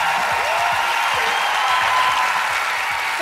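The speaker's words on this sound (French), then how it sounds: "réservez vos applaudissements pour l'incroyable Antoine Bertrand" Steady, loud studio audience applause on a French television entertainment show set, a continuous wash of clapping with faint low-pitched sweeping tones running beneath it.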